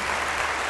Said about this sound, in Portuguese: um aplauso para Chile